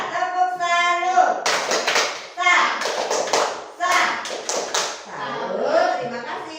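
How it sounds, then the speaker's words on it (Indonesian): A classroom group performs the Indonesian 'tepuk salut' clapping chant, a run of sharp, rhythmic hand claps in quick bursts, loud and close, mixed with children's voices chanting along. "Beri tepuk salut kepada kelompok ceria."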